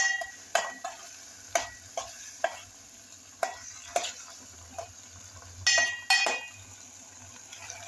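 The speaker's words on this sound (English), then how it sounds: "So I'm stirring in to mix together with the mixture." A spoon scrapes and clinks against a cooking pot as potatoes are stirred into a mixture, giving irregular sharp taps and scrapes over a soft sizzling background, with no speech.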